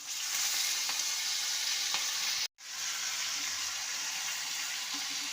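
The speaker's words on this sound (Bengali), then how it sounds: "লঙ্কাটাকে ফাটিয়ে নিয়ে সাদা জিরে একসাথে ফোড়ন দিয়ে দিচ্ছি" Chillies and white cumin seeds crackle and sizzle in hot oil for a Bengali fish-head moong dal tempering, a loud, dense hiss that runs steadily, cuts out briefly midway, then resumes just as strongly.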